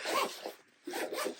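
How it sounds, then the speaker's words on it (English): A zipper on a flex pod case for cutting blades and patterns is pulled shut in two quick raspy strokes separated by a short pause, close and clear with no talking. "zip that right up"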